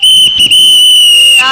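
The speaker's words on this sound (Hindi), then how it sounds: "अरे मुंशी राम दयाल, अरे सीटी तो निकालो, सीटी।" A shrill, piercing whistle blasts loudly and steadily, held as one long tone with a brief wobble near the start and a rising flutter at the end.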